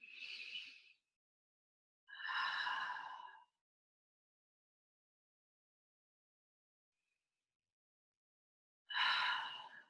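Three close breaths taken during a gentle yoga stretch, each a drawn-out airy rush lasting about a second, separated by long quiet gaps with nothing else heard.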